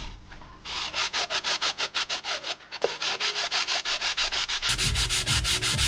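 Rhythmic rasping strokes of a sanding block worked across heat insulation material in an insulation shop, close and even, quickening toward a denser, louder scrape with no voices.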